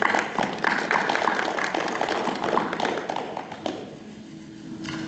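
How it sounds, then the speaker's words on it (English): A school board meeting audience gives a round of applause to welcome new board members, a steady wash of clapping from a room of people that thins out toward the end. "Let's give them a round of applause as well"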